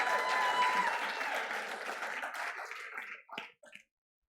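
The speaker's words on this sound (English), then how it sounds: "give our bodybuilders a round of applause" A church congregation applauds bodybuilders with a loud, dense wash of clapping that fades out, leaving a few last scattered claps at the end.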